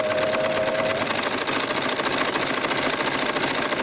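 Overlock sewing machine running continuously while sewing a rolled hem on fabric for a tiered skirt, a loud, fast, even mechanical whirr with rapid rhythmic clatter, close up and alone.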